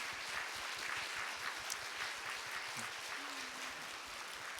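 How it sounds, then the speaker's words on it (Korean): A Korean church congregation claps to welcome two pastors of its evangelism team who have come to say farewell. The applause is dense, even and fairly soft, continuing alone with no speech. "우리 박수로 모시도록 하겠습니다"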